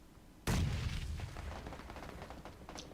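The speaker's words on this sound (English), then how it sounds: "Let's throw a grenade down." A thrown grenade explodes in the game PlayerUnknown's Battlegrounds, one sudden heavy boom that rumbles and fades over a couple of seconds, alone with no voices.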